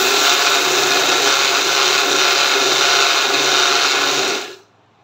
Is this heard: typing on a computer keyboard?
no